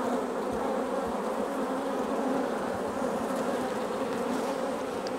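Honey bees in an opened queenless hive drone steadily and closely, a dense continuous buzz that holds at an even loudness throughout.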